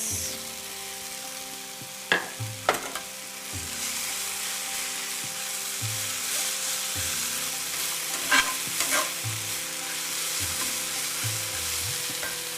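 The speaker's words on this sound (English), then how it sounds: "I'm going to add in the shiitake mushrooms." Shiitake mushrooms frying in a pan, a steady broadband sizzle throughout with a few sharp stirring clacks and scrapes, close and moderately loud, no voices.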